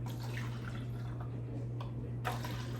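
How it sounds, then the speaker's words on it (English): Seltzer water is poured into a cup, with faint fizzing, trickling and dripping over a steady low hum, quiet and close, with no talking. "And I'm gonna fill the rest up with seltzer water."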